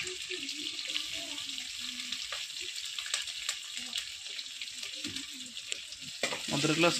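Chopped ginger and garlic frying with browned onion in a pan, a steady close sizzle with stirring scrapes, under a faint murmuring voice and a brief louder clatter near the end.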